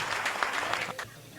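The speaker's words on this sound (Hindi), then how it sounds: "एक बार जोरदार तालियां निर्भय निश्चल के।" Audience claps for poet Nirbhay Nischal at a Hindi kavi sammelan, a short dense burst of applause that fades out quickly.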